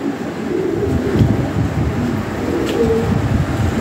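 Black Lahori pigeons coo softly in a pen, heard as low murmuring calls over a constant noisy background.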